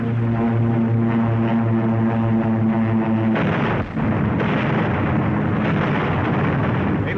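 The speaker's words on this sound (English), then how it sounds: "Watch the plane. There go the bombs." Bombs exploding during a WWII air attack in North Africa in 1943 with the US Army, a loud sustained engine drone cut off by a heavy blast and a long rumbling roar of explosions that follows.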